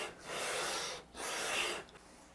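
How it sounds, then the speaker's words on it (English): 80-grit 3M green sandpaper is drawn in long, lighter-pressure strokes along a guitar fretboard being radiused, giving two sustained, soft hissing rasps, close but quiet, with a short gap between them. "Same thing, 80 grit 3M green core. I'm going to back off the pressure I'm using at this point. Take longer strokes."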